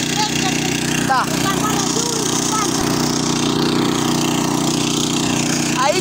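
A walk-behind tractor engine idles steadily, its low, continuous drone holding an even level throughout, with a few faint squeaks and a brief knock partway through.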